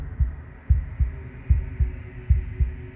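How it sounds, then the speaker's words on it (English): In the game Slay the Princess, a wooden and fleshy heart beats with a steady, deep, muffled thump repeating about twice a second over a low hum, loud and close with no talking. "a wooden and fleshy heart beating with an unbroken rhythm"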